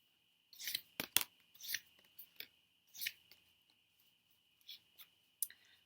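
Tarot cards from a Wild Wood deck are pulled and handled, giving a series of quiet, close papery snaps and rustles in irregular bursts against a silent background.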